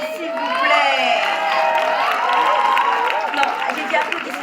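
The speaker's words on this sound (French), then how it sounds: "Applaudissez, s'il vous plaît." A crowd at a sound battle judge demo cheers and shouts loudly and continuously, with whoops and yells forming a dense wall of noise throughout.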